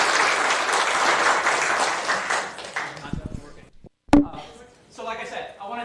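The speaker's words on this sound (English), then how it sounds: "I want to give you a round of applause" Round of applause from the attendees at a Baldwin Park city council meeting, a dense steady clapping that fills the room for about three seconds before tapering off into scattered claps and a speaker's voice.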